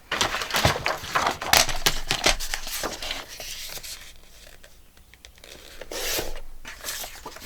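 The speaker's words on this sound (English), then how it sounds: "Let me cut that piece off." Scissors snipping through a sheet of 12x12 scrapbook paper, crisp crinkly cuts in quick bursts up close, easing off midway then returning.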